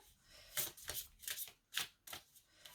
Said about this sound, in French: je vais remettre une carte sur le travail